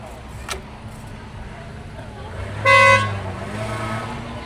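A single car horn toot of under a second, fairly loud over steady road and street background noise, sounded as a greeting by people passing during a family outing in Artik, Armenia.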